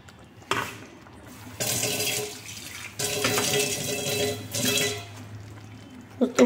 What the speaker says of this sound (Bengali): পোস্ত বাটি ধোয়া জলটাও দিয়ে দিলাম